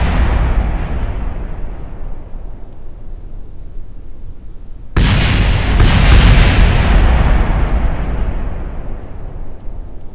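A rocket crashes and explodes in Kerbal Space Program. A low rumbling bed gives way midway to a sudden loud blast, followed by a sustained, roaring wash of explosion noise with no voices.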